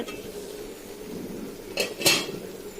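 A lid is set on a cooking pot of kochu loti, leaving two quick metallic clinks of pot and lid over a low kitchen background.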